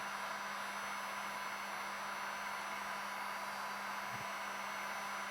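A heat gun blows hot air steadily onto an acrylic sheet being bent, a constant breathy whoosh with a low hum, unchanging throughout at moderate level.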